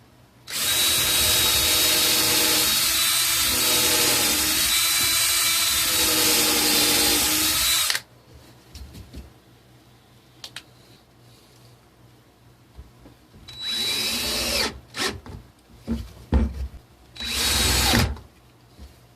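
A power drill whirs loudly for about seven seconds, pre-drilling wooden cat tree supports, then after a quiet pause with light handling noises it runs again in two shorter bursts while screwing them in.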